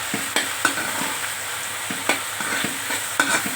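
Onions frying in plenty of oil for an egg and fish curry, a steady close sizzle with spatula scrapes and stirring knocks every second or so, no talking.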